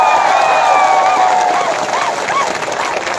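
A large crowd at the Tipra Motha Party mass rally in Hrishyamukh claps and cheers in a loud, continuous wash, with shrill whistling tones rising over the noise.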